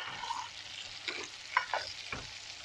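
Garlic and onion sauté in a hot pan, a soft steady frying hiss with a few brief stirring clinks and scrapes close by, no voices.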